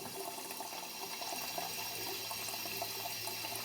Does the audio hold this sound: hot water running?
yes